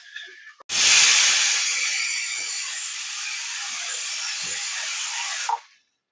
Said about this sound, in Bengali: কুকারে দুটো সিটি হয়ে গেল